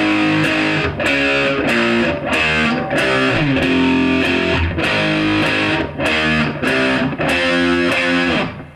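Distorted electric guitar plays a section of a song, a loud run of chugging power chords in a steady rhythm with short pauses between phrases. No one speaks.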